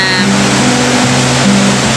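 Steady broadband rush of a stream flowing beside a riverside cafe near Chiang Mai, loud and continuous with a low engine-like hum underneath.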